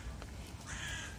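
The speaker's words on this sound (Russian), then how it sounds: "Зато вон вороны облюбовали те сосны и сидят там на них." Crows caw from pine trees in a city park, a few faint, hoarse calls at some distance over quiet outdoor background.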